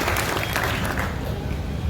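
A crowd claps for a candidate as election results are announced at a youth club block coordinator vote, a brief, steady burst of applause filling the moment at moderate loudness.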